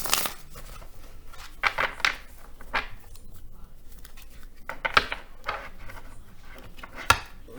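Soft, scattered bursts of cards being shuffled and riffled, with quiet pauses in between, close by and fairly faint.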